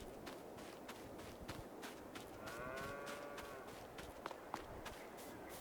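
Cows moo from a cow pen in Farming Simulator 22. Drawn-out lowing calls sit over a bed of steady hoof-like footsteps and shuffling, and there is no talk.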